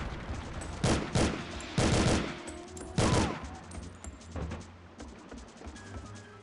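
Rockets or grenades fired in the N64 game 007: The World Is Not Enough. Three or four loud, sharp blasts come in quick succession early on, then fade into a lower rumbling tail.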